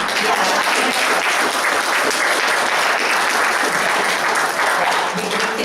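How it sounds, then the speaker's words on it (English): Congregation applause at a church service fills the space with dense, steady clapping from many hands, loud and sustained without a break. "we can clap about that because that's a wonderful thing"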